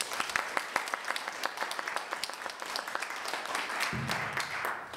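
Steady crowd applause at a university scholarship award ceremony, many hands clapping densely and fairly close, continuing without a break for the whole stretch.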